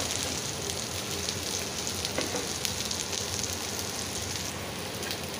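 Tuna pieces fry in hot oil with curry leaves, a dense, even crackle and sizzle like rain on a surface, steady and close throughout with a few brief sharper pops.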